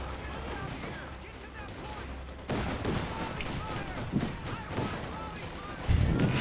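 Battlefield gunfire in the World War II strategy game Company of Heroes 2 forms a continuous crackle of machine-gun fire and distant shots, growing louder partway through, with voices talking over it.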